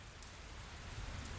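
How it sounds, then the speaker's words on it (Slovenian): Steady rain pattering on a surface, close and continuous, with a low rumble underneath that could be distant thunder; no voices. "Resko grmenje je presekalo besedo."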